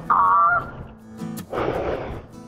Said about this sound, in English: Uh-oh, geese flying.